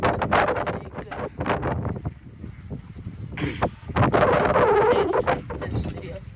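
Outdoors, wind buffets the microphone in a steady low rumble that swells louder toward the end, heard under indistinct speech.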